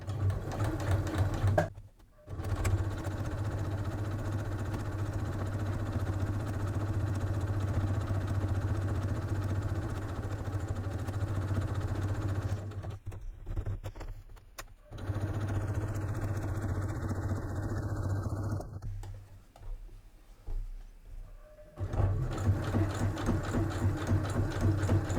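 Sewing machine stitching fabric for an Easter napkin ring, running in long steady bursts with a constant mechanical hum and brief stops in between, close up with no talk.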